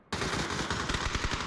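Rapid automatic gunfire in the battle royale game PUBG, a sudden dense burst of shots starting sharply and continuing for about a second and a half, loud and close, with no talking.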